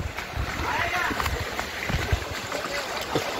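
Water splashes and rushes steadily at the Barvi fountain waterfall near Badlapur, a continuous broad wash heard up close while people talk over it.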